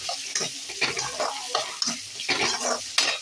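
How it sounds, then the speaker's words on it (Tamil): Chopped onions are stirred in a hot pan for a prawn dish, with a spoon scraping and clattering in uneven strokes over a steady crackling fry, close and clear with no voices. "வெங்காயம் போட்டாச்சு. அதை நல்லா இப்போ நம்ம கிண்டி விட்டுக்கலாம்."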